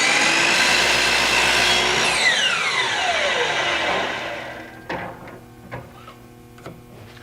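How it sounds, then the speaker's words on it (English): A power saw trimming a thin strip off a piece of wood, a loud, steady whine that descends in pitch as the blade spins down, followed by a few light knocks and clunks. "you're only taking about the width of the saw blade off of the wood as you trim it"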